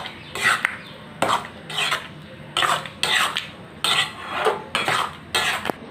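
A spoon stirs tarka with spices and homemade butter in a pan, giving a steady rhythm of scraping, clinking strokes roughly every second, close and clear with no talk.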